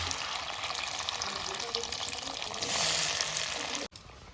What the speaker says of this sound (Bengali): আমি এইভাবে করে পনিরগুলো সমস্ত ভেজে তুলে নিচ্ছি আগে